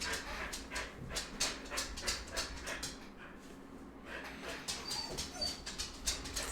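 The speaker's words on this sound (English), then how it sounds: "So apparently there's a cat or a dog outside." Dogs outside pant rapidly and excitedly in a steady rhythmic series of quick breaths, with occasional whimpers and faint bird calls in the background, fairly close and continuous.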